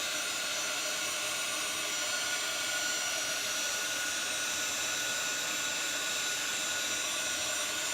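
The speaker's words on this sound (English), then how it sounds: "heat tool" A heat tool blowing hot air to dry painted stripes on a home decor sign, a steady, loud, close whooshing roar that runs unbroken with no talking.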